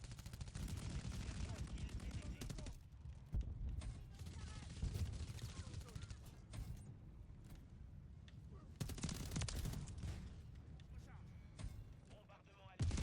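Bursts of rapid gunfire from a Call of Duty MW3 match crackle in repeated clusters, mixed with game sounds, while a player talks excitedly over the action.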